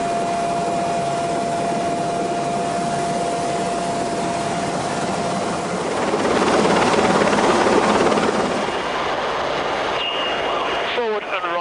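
A rescue helicopter drones loudly and continuously overhead during a sea survival winching drill, its rotor noise swelling midway, with a faint tonal whine and brief beeping near the end.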